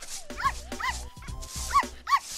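A dog gives a few short, high yipping barks in quick bursts, close by, with brief pauses between them.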